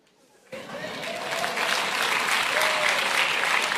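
A church congregation bursts into applause after a moment of silence, the clapping swelling quickly and holding steady, loud and dense, with no one speaking over it.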